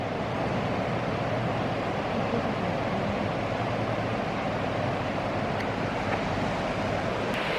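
A river rushes past a riverside spot in Yosemite, a steady, dense broadband wash of flowing water that stays loud and even throughout, with no voices.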